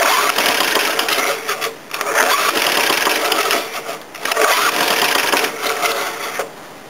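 An old lawn mower engine runs with the choke partly on, its carburettor likely rusted, giving a steady, close, rough drone that dips briefly a few times before picking up again.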